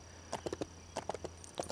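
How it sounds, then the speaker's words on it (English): Horse hooves clip-clop in the Lego City Undercover video game while riding, a steady trotting run of hollow knocks in short clusters over a low constant hum, moderately loud and close with no talking. "I'm a little busy riding horses"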